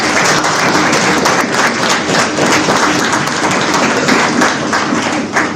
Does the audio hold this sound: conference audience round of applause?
yes